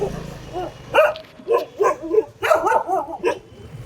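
A dog yips and barks in short, excited bursts, several in a row with brief gaps, fairly close and clear.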